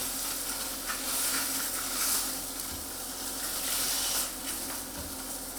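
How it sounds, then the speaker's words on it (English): A sea bass fillet pan-fries in a hot pan, a steady close sizzle and crackle of hot oil that carries on without a break and with no talking over it. "cook that other side just for a few seconds, maybe 15, depending on the heat of your pan"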